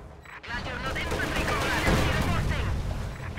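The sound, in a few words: gunfire in video game, T-70 firing on Grenadiers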